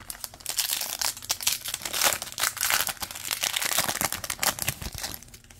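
Topps Chrome baseball cards from a 2022 blaster box are flipped and shuffled close up, giving dense, continuous crinkly slaps and rustles of glossy card stock in quick succession with no talking.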